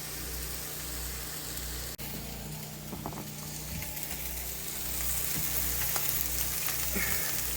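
Cutthroat trout and sausage fry together in a pan inside a trailer, giving a steady close sizzle and crackle over a low constant hum, growing slightly louder toward the end, with no talking.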